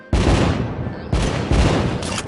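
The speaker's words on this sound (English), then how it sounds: "Those fireworks, sit back and enjoy the show." Fireworks explode in a video game as dense, continuous crackling bursts, with fresh loud volleys starting roughly every half second to a second, filling the whole stretch with no voices.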